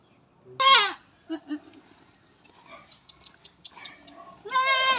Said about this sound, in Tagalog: Oh, nanganak kambing.